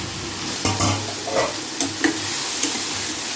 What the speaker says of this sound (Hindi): इस तरह हम इसे हल्का भून लेते हैं।